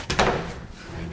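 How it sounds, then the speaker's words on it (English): A door shuts with a single solid thud near the start of a cartoon chase scene, followed by a quieter, muffled tail. "Shut the door!"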